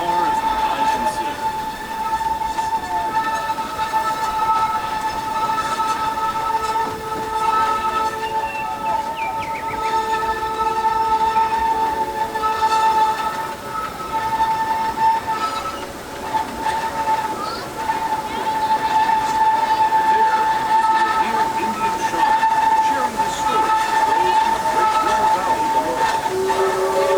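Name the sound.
Disneyland Railroad train running on rails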